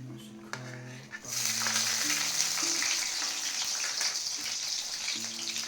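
Garlic hits a hot wok and bursts into a loud, steady sizzle that holds on, close up, after a few brief clinks and faint background sounds at the start.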